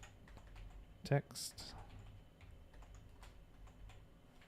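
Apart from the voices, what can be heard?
typing on a computer keyboard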